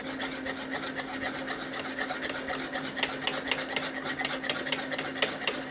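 Yorkshire pudding batter being mixed in a bowl until no longer lumpy, a steady close rasping and rubbing of whisk or spoon against the bowl in quick repeated strokes, with no talk.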